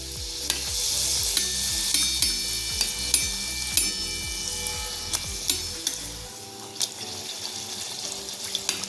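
Whole wheat bhature frying in hot oil while more oil is spooned over them, giving a loud, steady bubbling sizzle with occasional clicks and clatter up close and no talking.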